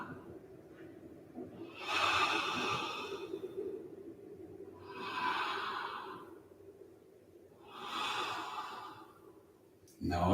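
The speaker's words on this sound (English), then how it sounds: "I've got to breathe a little harder for you to hear it through my nose" Three slow, audible breaths drawn in and let out through the nose during a restorative yoga joint-opening exercise, each swell lasting about two seconds with quiet pauses between them, close and alone without speech.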